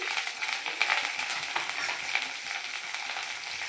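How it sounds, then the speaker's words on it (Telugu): Onions, curry leaves and coriander fry in a pan with a steady hiss and crackle, the sizzle holding even throughout with faint stirring scrapes and no voices. "కొంచెం బాగా ఫ్రై చేయాలి"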